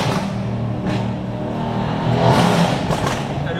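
Mercedes C63 AMG with a turbocharged V8 accelerating, a steady, loud engine drone heard from inside the car, swelling a little louder partway through.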